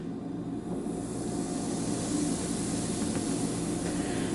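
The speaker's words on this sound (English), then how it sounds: "we can pour a little bit more in since it's still going to be a little bit fizzy" Root beer float fizzing as more root beer is poured over ice cream: a steady, close, broadband hiss of bubbling foam that swells slightly midway and holds throughout, with no talking.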